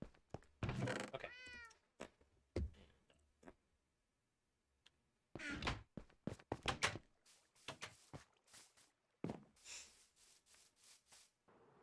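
A house cat meows clearly near the start amid scattered soft thumps, ticks and rubbing noises, with quiet gaps between, close by and fairly faint overall.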